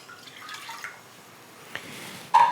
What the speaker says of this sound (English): I am going to add in the 1/4 cup of water, getting that from my sink into the pot.